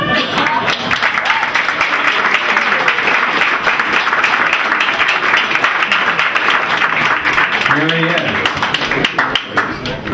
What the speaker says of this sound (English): Have a round of applause and a job well done.